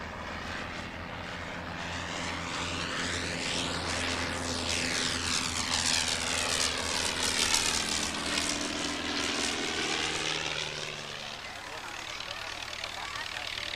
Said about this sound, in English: this original Avro 504K, primarily used as a training aircraft in World War I and between the wars